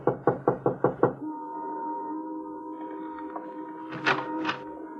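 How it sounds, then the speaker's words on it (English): Six sharp knocks on the front door of a run-down house, loud and close in a quick even rhythm, followed by a quiet room tone with a hum and a couple of faint brief sounds near the end. "Want to knock?"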